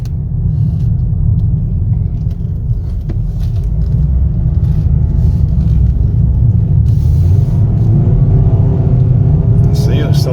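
A 2021 Toyota Corolla LE driving, with a steady low cabin rumble of road and engine noise throughout and a voice talking over it.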